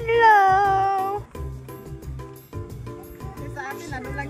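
A wild cat at a zoo gives a long, loud, wavering meow, then a run of shorter meow-like calls nearby, as a person's voice imitates the meowing.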